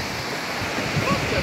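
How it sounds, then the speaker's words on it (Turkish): Muradiye waterfall roaring as a dense, steady rush of falling water, loud and close, with a voice briefly audible over it. "Arkadaşlar şelaleye bakın."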